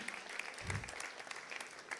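Faint, scattered applause from an audience at a Spanish-language gathering, thin and distant clapping that stays low throughout.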